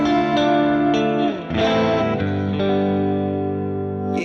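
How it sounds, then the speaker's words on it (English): Kemper profiler guitar with a chorus modulation effect, sustained chords shimmering with a lush, wavering pitch, a brief dip near the middle, played alone at steady loudness. "It's got that chorusing sort of effect"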